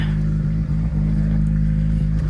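A Ford ST170 engine runs with its ignition timing out, producing a steady, loud, close low drone with a slightly uneven pulse throughout.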